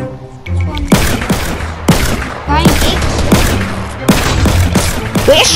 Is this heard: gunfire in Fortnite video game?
yes